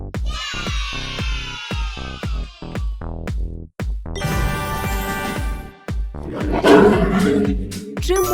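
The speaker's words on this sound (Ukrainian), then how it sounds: "Це лев." A lion roaring in a children's animal-sound guessing game, loud and sustained, set among bright musical tones and other busy effects with no talking over it.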